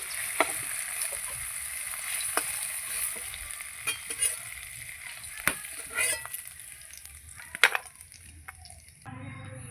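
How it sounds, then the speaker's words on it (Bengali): Paneer fries in oil in a pan, a continuous close sizzle with scattered sharp crackles and spatters, and a utensil scrape near the end. "পনিরগুলো ভালো করে ভেজে নেব"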